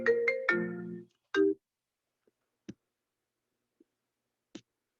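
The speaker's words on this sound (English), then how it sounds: "My phone was ringing." A phone's ringtone plays a brief melodic chime phrase, loud and close, followed by a few soft scattered clicks and taps in an otherwise quiet room, with no talking.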